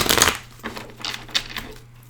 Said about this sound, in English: I'm going to shuffle this way for a moment.